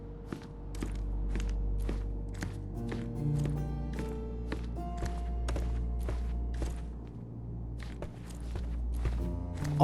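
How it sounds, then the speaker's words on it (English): Footsteps thud overhead in a Stonewood Manor house in the video game Sherlock Holmes Chapter One. They come as a steady series of soft, evenly spaced steps over a sustained musical score, with no voices. "I heard footsteps upstairs a second ago."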